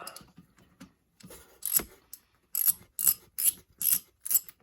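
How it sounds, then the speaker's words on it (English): Ratchet wrench loosening the oil drain bolt on a 2019 Kawasaki KLX 110 in a garage: rapid clicking bursts, first faint and scattered, then five loud, evenly spaced ratcheting strokes, close up with no talk. "And then unscrew this bolt here."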